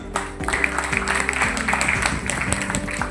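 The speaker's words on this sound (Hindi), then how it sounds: "एक बार जोरदार तालियां मैम के लिए" An audience claps for Miss Maharashtra 2024 at a felicitation program, with moderately loud, steady applause running under stepping background music.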